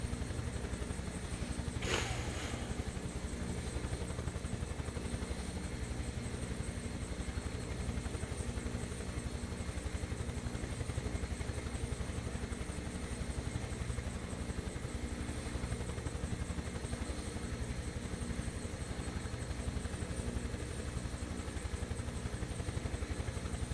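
A Huey helicopter in a flight simulator game, a steady, moderately loud rotor and engine drone throughout, with one brief sharp click near the start and no talk.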